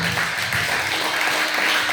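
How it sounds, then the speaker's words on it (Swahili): A church congregation claps together in steady, dense applause at a worship service, a continuous loud wash of many hands with no talk over it. "Kama unatamani kujazwa, piga makofi tena"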